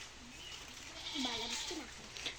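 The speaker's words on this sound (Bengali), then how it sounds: "দেখেন ছাগলের বাচ্চাগুলো কত সুন্দর খাইতেছে" Black Bengal goat kids bleat while feeding on a goat farm, with several short, fairly close bleats over a quiet background and no talking.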